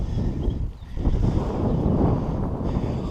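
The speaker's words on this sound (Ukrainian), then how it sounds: "вітер, вітер, звісно, але прикольно" Wind blows hard near an abandoned village, a rough low rumble and buffeting against the microphone that runs steadily through the whole stretch.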